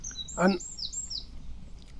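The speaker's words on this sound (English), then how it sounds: "you can listen to the water flowing and listen to the birds" Birdsong by a lake with a stream flowing into a lower lake: several thin, high chirps and short whistled phrases over a soft steady background, with a brief spoken word early on.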